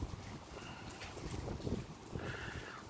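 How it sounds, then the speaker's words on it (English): Gusty wind buffets the microphone outdoors, a continuous low roaring rumble that swells and eases over a few seconds with no voices. "Now the wind's picking up a little bit."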